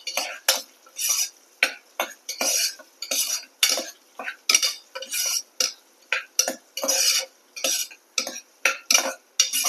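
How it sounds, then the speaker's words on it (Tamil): Big onions being sautéed in a pan for a mushroom gravy, heard as a steady series of sharp spatula scrapes and clanks in a quick irregular rhythm, close and fairly loud with a faint sizzle underneath. "பெரிய வெங்காயம் சேர்த்துக்கலாம். நல்லா வதக்கி விடுங்க."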